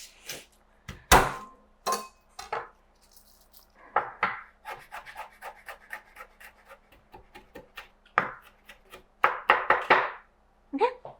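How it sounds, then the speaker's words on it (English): A kitchen knife minces garlic on a cutting board in quick bursts of sharp, close taps with short pauses between runs. "I have some garlic that I'm going to mince as well"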